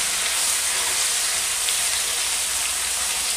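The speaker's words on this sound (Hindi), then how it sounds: "ऑयल हो चुका है गर्म, इसमें डालेंगे हम भिंडी। भिंडियों को हमें चलाते चलाते ही फ्राई करना है।" Okra (bhindi) frying in hot oil gives a loud, steady hissing sizzle that holds evenly throughout, with no voices.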